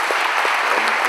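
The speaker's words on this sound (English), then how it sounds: "applause is not for us, that applause is for those kids." Audience applause for the kids of an undefeated high school football team, a dense, steady wash of clapping at close range that fills the whole moment without any voices on top.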